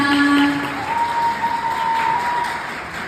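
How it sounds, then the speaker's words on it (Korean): An audience applauding steadily at a wedding ceremony, a dense wash of clapping with a few faint sustained tones underneath. "큰 박수 부탁드리겠습니다"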